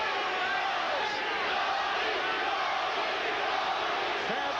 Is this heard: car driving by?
no